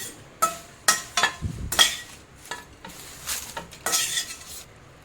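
Whole spices for a non-veg masala being lightly dry-roasted in a pan: a spatula scrapes and clinks against the metal in distinct bursts over a faint sizzle, close and clear.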